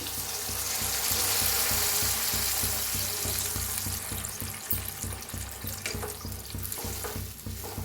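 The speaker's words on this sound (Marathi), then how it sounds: "आता गरम करून घेतलेलं आहे गरम पाणी ओतूया" Hot water pours steadily into a sizzling pan, a continuous hissing, bubbling wash of sound close up that fades slightly toward the end.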